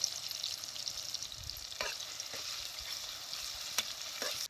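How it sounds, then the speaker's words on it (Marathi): Crushed garlic and chopped tomatoes frying in oil with cumin for a village bean curry, a soft continuous sizzle with a few stirring scrapes and clicks of a spoon, fairly faint and alone. "आता ही चेचलेलं लसूण बी तेलात टाकायचं"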